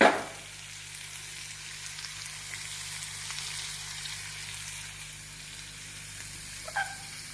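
Onions frying in coconut oil with salt, a steady close hiss and sizzle throughout with a brief small clink near the end.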